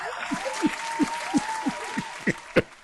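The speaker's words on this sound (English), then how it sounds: "Why y'all clapping?" Studio audience at a comedy show clapping in a steady run of short bursts, applause broadband and moderately close, with a faint hum underneath and no talk over it.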